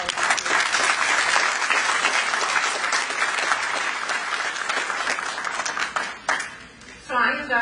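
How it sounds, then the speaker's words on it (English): Applause at a nursing school commencement ceremony, a crowd clapping steadily for several seconds before it thins out and a voice begins speaking at the end. "You guys yourself deserve an applause for everything you've done to help us do that."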